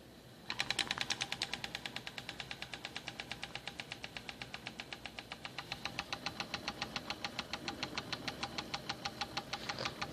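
A small D5 toy steam engine running slowly after being spun to start, with a rapid, even chuffing and knocking beat that holds steady for ten seconds, close and moderately loud with no talking.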